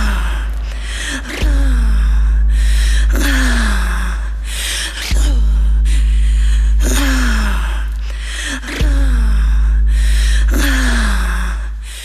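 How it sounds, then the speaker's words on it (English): Loud, rhythmic breaths are sampled into a song by A Tribe Called Red, with sharp inhales repeating in a looped pattern over a heavy bass pulse. "I believe there's a break with some breathing in it"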